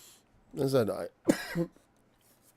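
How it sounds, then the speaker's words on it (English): Someone clears their throat twice in short, rough vocal bursts, close to the microphone, followed by quiet. "I gotta clear my throat."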